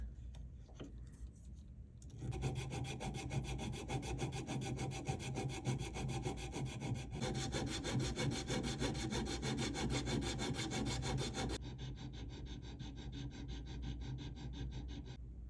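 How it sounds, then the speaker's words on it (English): A hand file works the seats of a handmade emerald cut bezel for a three-stone ring, with close, rapid rasping strokes in a steady back-and-forth rhythm, scraping continuously for about ten seconds before easing to lighter filing. "So I just got done filing the seats."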